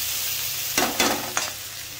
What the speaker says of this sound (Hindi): इसको अच्छी तरह से मिक्स कर देंगे